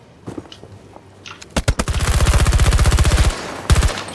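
Automatic gunfire in Battlefield 2042: a few scattered single shots, then a sustained rapid burst of evenly spaced rounds lasting over a second, followed by a couple of closing shots, loud and with no talk.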